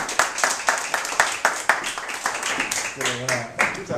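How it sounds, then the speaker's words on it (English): A seminar audience applauds a speaker, with distinct, sparse individual claps in an uneven rhythm from a modest crowd, close and fairly loud, ending in a brief vocal cheer. "So let's give a big round of applause for Mr. James Dickerson."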